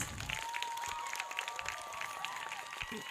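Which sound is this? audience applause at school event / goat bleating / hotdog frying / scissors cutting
audience applause at school event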